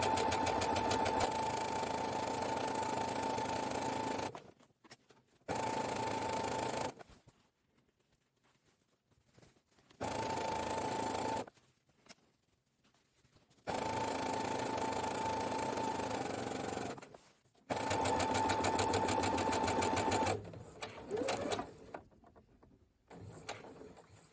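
A sewing machine stitches fabric into bias tape in several bursts of steady whirring, each lasting a few seconds, separated by quiet pauses, heard up close with no talk.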